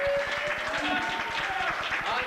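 An audience applauds a band at the Summerlin Theater for the Performing Arts. Steady, dense clapping fills the room over a sustained musical tone.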